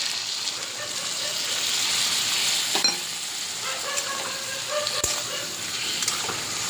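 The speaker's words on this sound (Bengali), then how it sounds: "এবার চিংড়ি মাছের মুড়োগুলো যে বেটে রেখেছিলাম সেই রসটা দিয়ে দিলাম" Ground prawn-head paste hits hot oil and vegetables in a pan and is stir-fried, hissing in a loud, continuous sizzle broken by a few sharp scrapes and clinks of the spatula.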